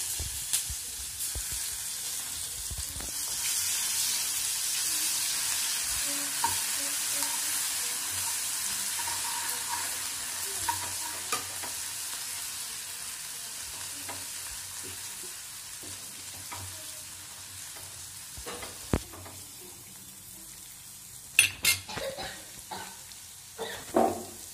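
Spice paste frying in a pan for amla pickle after dried red chillies went in over low heat, a steady broad sizzle with scraping stirs, settling toward the end into sharper clatters and knocks.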